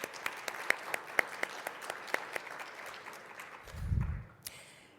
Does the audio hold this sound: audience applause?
yes